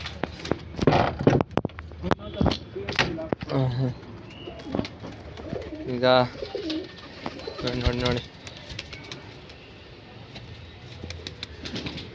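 Pigeons coo and flap their wings inside a loft, with a few short bursts of cooing and wingbeats mixed under a man's close, ongoing talk.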